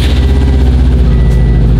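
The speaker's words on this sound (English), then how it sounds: "Very tame exhaust" Exhaust from a 2007 Subaru WRX STI rumbles loud and near in a steady, low, pulsing burble at idle, with no voices over it.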